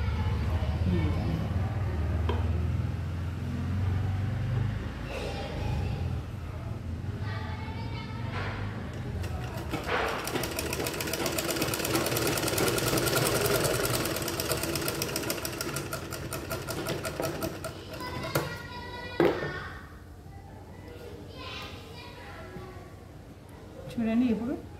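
A sewing machine stitches a double-layered blouse body, its steady rapid mechanical whir building and running for several seconds mid-clip amid intermittent handling noises and a speaking voice.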